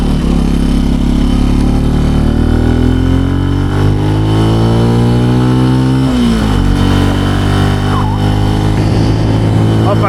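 A Benelli TNT135 motorcycle engine revs up through the gears while riding, its loud, steady engine tone climbing in pitch, dropping back and climbing again, up close with wind noise.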